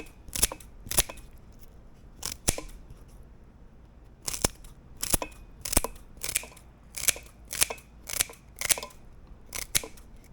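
A knife chops through fresh celery on a cutting board, giving sharp, crisp crunching strokes in irregular bursts with short pauses between them, close and fairly loud, with no talking.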